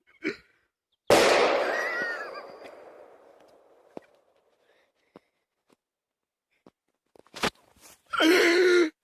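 A pipe firecracker set on a tree stump goes off with one sharp, loud blast that rings and decays over a few seconds, followed by scattered faint clicks and a brief burst of noise near the end.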